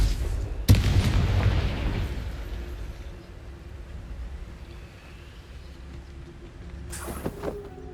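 A Confringo blasting spell in Hogwarts Legacy erupts as one sharp, loud boom that rolls off into a long rumbling decay, with a second, fainter burst near the end.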